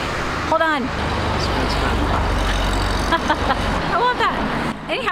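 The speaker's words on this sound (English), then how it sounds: "Oh, look at this cool car coming by." A car drives past on a street in Koyasan, Japan, a steady low engine rumble filling the background while people talk close by throughout.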